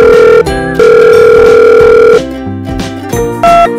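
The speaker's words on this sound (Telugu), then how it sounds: "వీళ్ళకి ఆ రాము గారికి ఫోన్ చేస్తే" A telephone line tone during an outgoing call, loud and close, with sustained electronic beeps broken by short gaps and shifting tone patterns.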